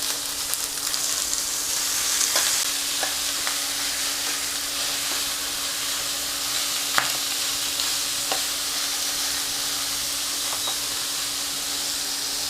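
Minced meat for spaghetti bolognese sears in an extremely hot pan, a loud continuous hissing sizzle with a few sharp spits and pops, heard alone and close.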